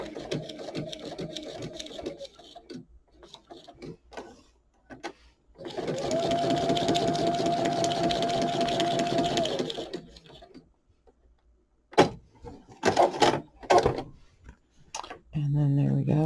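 A sewing machine stitches a straight line in one steady burst of rapid mechanical whirring lasting about four seconds, preceded and followed by scattered clicks and handling knocks.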